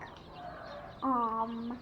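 A hen gives a few soft clucks and then a louder, drawn-out squawk, close by in a quiet space.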